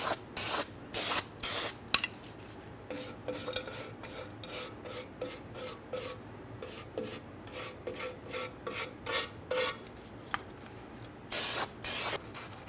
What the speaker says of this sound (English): As far as cleaning the backing plate, we'll just use some parts cleaner and a wire brush as necessary.